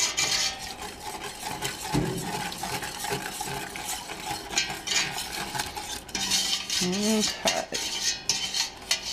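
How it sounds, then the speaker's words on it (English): A sauce for boxed mac and cheese is stirred as milk is added, with a steady clatter and scrape of a utensil against the pot over a low background hum, and a couple of brief spoken responses. "And you keep stirring too."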